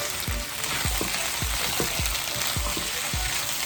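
Shrimp, chicken, broccoli and cauliflower stir-frying in sesame oil in a pan, a loud, constant sizzle broken by regular scraping stirs about twice a second, close by with no talk.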